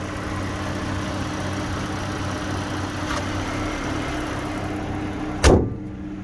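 A 2011 Mazda CX-9 AWD engine idles steadily with a low even hum from the open engine bay, a brief tap midway and a loud thump near the end as the sound cuts off.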